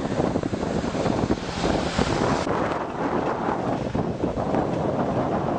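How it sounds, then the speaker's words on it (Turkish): Strong south-southeasterly wind roars and buffets the microphone continuously, a loud rushing gust with no voices. "kuvvetli rüzgar nedeniyle günlük yaşam olumsuz etkileniyor"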